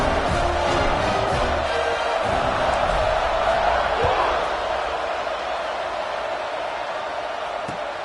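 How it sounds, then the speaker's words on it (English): A football stadium crowd hums with a steady, loud roar after a touchdown, a broad wash of voices that eases slightly toward the end, while a commentator talks over it. "this crowd is buzzing after that last score."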